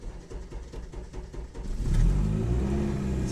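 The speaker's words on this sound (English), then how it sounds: "the exhaust sounds pretty decent for straight pipe" A Honda Civic Si with a swapped K20Z1 engine, k-tuned headers and straight-pipe 2.5-inch exhaust, first burbles in short uneven pulses and then revs up into a louder, sustained rising roar.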